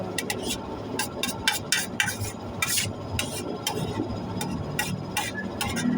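Chopped garlic scattered over an embotido mixture while cooking, with repeated light clicks and soft clattering of utensils against a bowl or tray, close and steady for several seconds, no talk.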